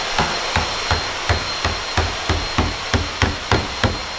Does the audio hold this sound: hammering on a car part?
yes